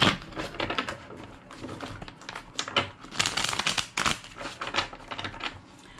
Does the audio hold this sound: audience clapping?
no